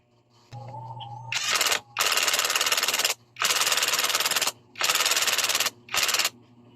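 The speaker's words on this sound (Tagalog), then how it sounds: "Tapos sigpitan natin gamit ang ating 4mm na socket at siyempre yung electric impact wrench natin." An electric impact wrench with a 4mm socket tightens a nut on a Honda Wave 100 stator cover, hammering in four loud, close, rattling bursts of about a second each, separated by short gaps.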